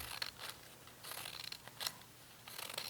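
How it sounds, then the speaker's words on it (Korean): Scissors snip paper to size for a children's art craft, a few quiet, brief cuts spaced through a soft background. "그래서 적당한 크기로 잘라줍니다."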